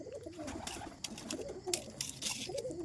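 Domestic pigeons coo in low, soft throaty rolls, several birds overlapping near by, with faint rustles and wing flutters mixed in and no clear speech.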